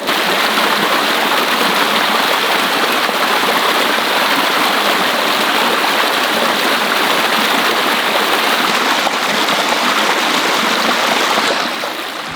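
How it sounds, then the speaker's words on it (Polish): Steady rushing of a flowing stream, loud and close, a constant broadband wash of water with no voices. "Mamy do dyspozycji tylko taki strumień"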